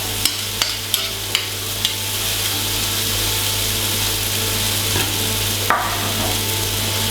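Parsley cooking in a pan for snail soup, a steady close sizzle under a constant low hum, with a few sharp clicks early on and a brief scrape near the end.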